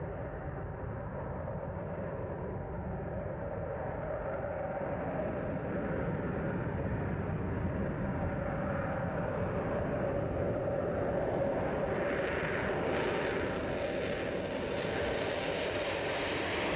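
A YF-23 jet aircraft powering up for takeoff produces a sustained, dense engine roar that builds slightly and holds loud and steady throughout, with no voices over it.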